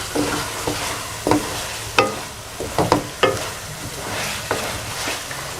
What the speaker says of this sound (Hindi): इस तरीके से आपने इसको भूनते जाना